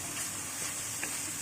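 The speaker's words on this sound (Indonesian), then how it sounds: "Ini bumbunya kita tumis dulu tadi ya." Spice paste for Indonesian ayam woku sizzling as it is stir-fried in a pan, a steady soft hiss with faint stirring scrapes, brief and close with no talk.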